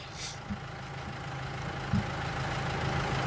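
A tractor in a farming video game runs at very low revs, giving a steady, low, muffled engine drone with faint knocking that stays even throughout.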